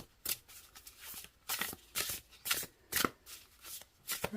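Oracle cards from an Earth and Bone Oracle deck being shuffled by hand, heard as a run of crisp, papery riffling bursts in an uneven rhythm, close and fairly quiet, with no talking.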